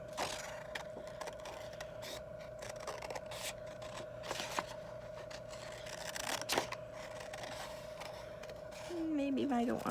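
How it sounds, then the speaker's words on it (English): Scissors cutting out a paper horn template for a unicorn crown: irregular, close snips and crisp paper scraping over a steady electrical hum, rustling louder at the end. "So you'll need to have scissors at home to be able to cut this out."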